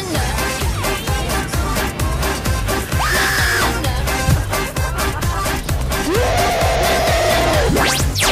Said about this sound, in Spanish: Tremendo grito se mandó esa mujer